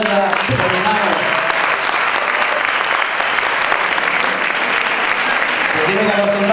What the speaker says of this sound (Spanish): un aplauso general para todos ya terminados